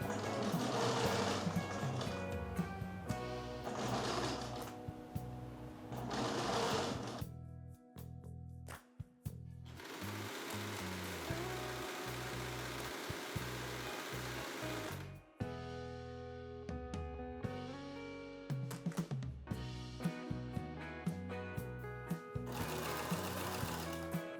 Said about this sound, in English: So let me go ahead and stitch this bias tape down.